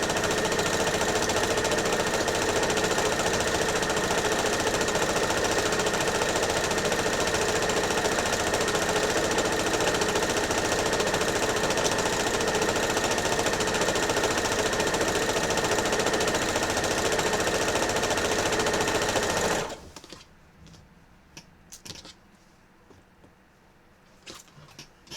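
A sewing machine stitches rows of a horror-themed commissioned quilt, running loud and steady for about twenty seconds before stopping abruptly, leaving a few faint handling sounds.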